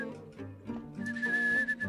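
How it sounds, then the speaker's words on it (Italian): In the video game Rule of Rose, a girl whistles to call a little bird: a clear, sustained high whistle in a few wavering notes, heard alone and up close. "lei fischietta nella speranza di far venire l'uccellino?"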